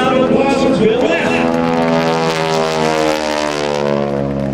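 Bill Leff's propeller aerobatic airplane dives and climbs over an air show, a loud close engine drone with shifting pitch as it passes, while an announcer talks over it.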